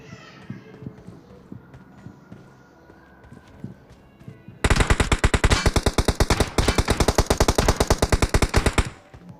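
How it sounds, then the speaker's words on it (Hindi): Rapid bursts of automatic gunfire from a teammate in PUBG Mobile on the Erangel map, loud and sustained for several seconds, following quieter in-game background sounds with a few faint footsteps. "मेरा टीममेट उनके ऊपर फायर करता है।"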